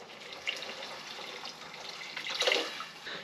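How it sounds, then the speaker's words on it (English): Water poured from a tap or jug into salt-making liquid, a soft continuous splashing trickle close by that swells briefly near the end, with no talking. "now I'm just gonna add in our last little bit of water"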